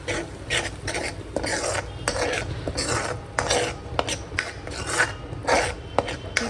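A spoon scrapes and stirs tomato paste through a cauliflower and pea masala in a pan, a steady run of rasping, rubbing strokes with light metallic clinks, close and fairly loud with no talking.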